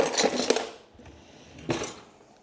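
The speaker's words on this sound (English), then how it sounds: "Let's give it a stir." A spoon stirs and scrapes through Ninja Creami ice cream in its tub, giving two short bursts of scraping clatter with a quieter pause between them, fairly close and with no talk.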